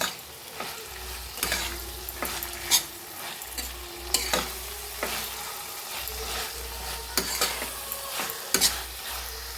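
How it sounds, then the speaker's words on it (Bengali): A spoon scrapes and stirs yardlong beans through sizzling fried spice masala in a pan, with a soft steady frying hiss under repeated knocks and scrapes against the metal. "মশলার মধ্যে বরবটি কড়িগুলো দিয়ে দেব, দিয়ে একটু নেড়ে চেড়ে নেব।"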